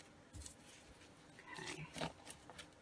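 Scissors snipping through paper ephemera for a cat-themed journal: a few quiet crisp cuts with soft paper rustling, close and faint.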